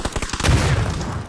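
A grenade blast in the PUBG battle royale game: a loud, close boom with a rumbling low-end roll that swells and lingers for about a second after some short sharp crackles.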